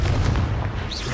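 The Confringo explosive spell from the Hogwarts Legacy video game lands with a heavy, deep boom and rumbling blast, loud and close, fading over about a second.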